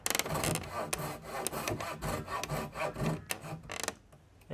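Coping saw slowly cutting through very thick timber, a close series of rasping back-and-forth strokes in uneven rhythm, with a brief pause near the end.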